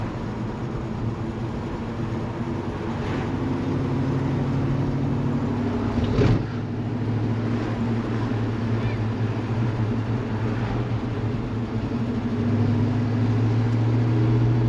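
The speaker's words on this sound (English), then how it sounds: "the engine sounds so good" A 1965 Chevy C10 pickup truck engine idling with a steady low rumble from inside the cab, with a brief thump partway through.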